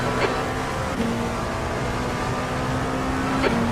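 A race car in the iRacing simulation at Daytona drones with a loud, steady engine note that holds its pitch for several seconds, with a faint tonal whine running through it and no talking.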